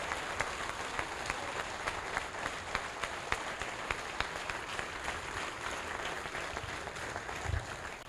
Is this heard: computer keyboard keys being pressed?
no